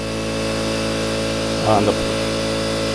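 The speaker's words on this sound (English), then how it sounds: "little motor runs good now" A 15HP Yamaha four-stroke outboard motor, running again after a stray hose was removed from between its fuel pump and carburetor, holds a steady, even hum throughout, with a brief burst of speech over it.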